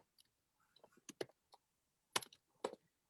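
Typing a Google search on a computer keyboard, sparse irregular key clicks with a few louder clustered taps, close and quiet with no talk.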